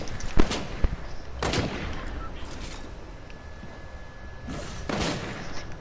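Gunfire in the video game Fortnite, with several sharp bursts of shots scattered across a few seconds over a steady game background, fairly close and loud.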